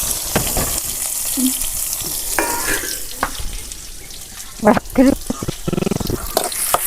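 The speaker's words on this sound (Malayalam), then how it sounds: "ഇതാ ഉള്ളി ഇട്ട് കൊടുക്കുന്നുണ്ട്" Onions frying in a pan on a wood-fired stove, a steady soft sizzle with occasional scraping and stirring knocks, growing busier toward the end.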